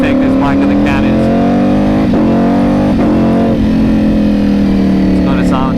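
A Ducati Panigale V4 motorcycle engine revs hard and steadily on a dyno, loud and close, its pitch climbing and falling in sweeps while a voice speaks briefly over it.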